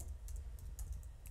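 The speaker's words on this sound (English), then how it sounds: "as you can see what I'm typing at the moment" Rapid typing on a computer keyboard while setting up an LC350 digital projector, with a string of light, quick key clicks played alone at low volume over a steady background hum.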